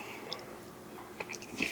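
Someone bites into a creamy French onion chicken casserole topped with fried onions, with a few soft, close crunching bites and chewing sounds in near silence.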